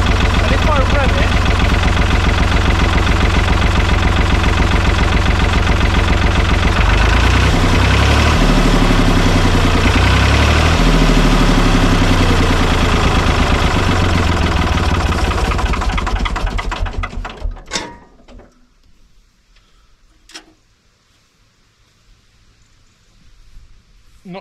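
An old barn-find Thwaites diesel dumper, with its alternator under test, runs loud and close, its engine note rising and falling as it is revved, then cuts out abruptly about two-thirds of the way through, leaving near silence.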